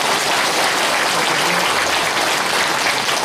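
Dense, steady applause fills the room for a pastor, Korean Christian council co-chair, giving a congratulatory address at a political gathering; loud, even clapping throughout with no talking.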